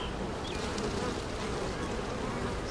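Honeybees buzz around an open eight-frame hive with a booming colony. A dense, steady drone of many wings fills the whole clip, close and continuous, with individual bees passing near.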